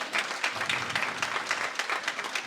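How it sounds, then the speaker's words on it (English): Audience applause at the Maangaar 2024 Summit, a crowd clapping steadily and densely in a hall, sustained at an even level throughout without pause. "So let's give them a hand of applause."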